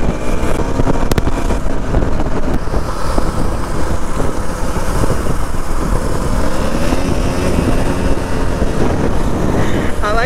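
Loud, steady vehicle engine roar during an off-road bike ride after the engine sound changed, continuous and close with rumbling noise throughout and voices faintly underneath.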